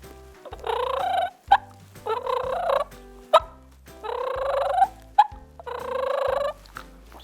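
A mouth call imitates a wild turkey hen, giving four rolling purrs with short sharp clucks between them, close and clear in a steady rhythm with no talking.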